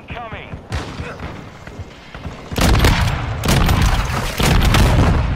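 Lever-action rifle fire in Call of Duty MWII: after quieter game ambience and a voice, three loud, close booming shots ring out about a second apart, each with a rumbling tail.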